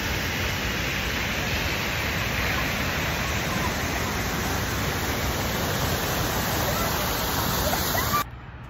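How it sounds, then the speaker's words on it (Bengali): A natural waterfall at Croton Point Park, New York, gives off a steady, close rushing roar of falling water. The sound stays constant throughout, then cuts off sharply just before the end. "অনেক সুন্দর একটা ঝর্ণা।"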